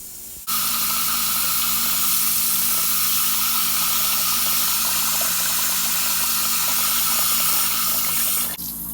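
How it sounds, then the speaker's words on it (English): Water from a hose rushes through the drains of a converted Jetta Mk4 ute bed frame, a steady loud hiss that starts abruptly, runs evenly for several seconds and cuts off near the end. "Throw some water through it."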